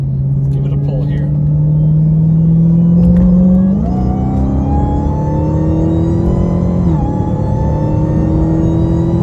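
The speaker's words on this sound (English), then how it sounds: "That supercharger whine does sound great." Supercharger whine rises and falls over a low, rumbling stock exhaust as a Dodge Charger Hellcat revs through two shifts, loud and close throughout.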